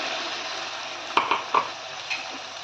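Spice paste and gravy frying in oil in a pan, heard as a continuous sizzle with a handful of close spoon-on-pan clanks and stirring scrapes in the middle.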